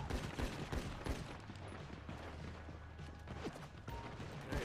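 Game gunfire in Grand Theft Auto V, including shotgun fire, comes as repeated sharp blasts mixed with low rumbling and other game noise, steady and moderately quiet, with no one talking.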